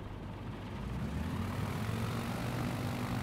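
Propeller aircraft engine throttling up in Microsoft Flight Simulator 2020 on the ground in a desert, a steady, loud droning hum that builds slightly over the few seconds, with no voices.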